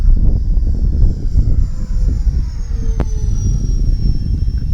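Electric RC model OV-10 Bronco airplane buzzes steadily overhead in flight, a continuous droning motor tone with a faint rising whine, sounding at moderate distance against outdoor rumble.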